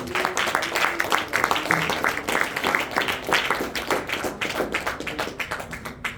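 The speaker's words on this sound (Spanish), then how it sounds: "Dale ofrenda de palmas a Dios" A church congregation claps as an offering to God during a sermon. Quick, close, rhythmic hand claps repeat steadily in a lively pattern for several seconds, with faint voices mixed in.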